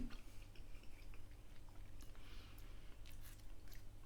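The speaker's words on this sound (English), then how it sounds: "the skin's crunchy." Close chewing of crunchy-skinned Aldi Slimwell chips, wedge-like potato pieces, with soft repeated bites and crunches over a steady low background hum, no talking.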